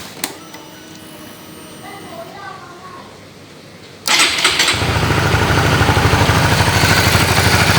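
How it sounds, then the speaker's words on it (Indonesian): Honda CB150R motorcycle fitted with an original cam chain tensioner: a quiet mechanical rattle, then the starter catches and the engine fires up abruptly, settling into a loud, steady, close idle. "setelah itu kita nyalakan motornya"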